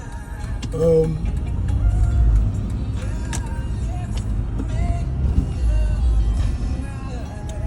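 A car engine rumbles steadily at low pitch, close by, with brief higher sounds around one second.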